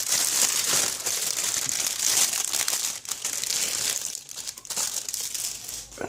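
A plastic bag holding sprues from a 1/35 scale Chevrolet C15A lorry model kit is opened and handled, making loud, close crinkling and rustling that goes on almost without pause and thins out briefly in places.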